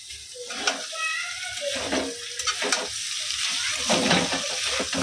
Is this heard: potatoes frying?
yes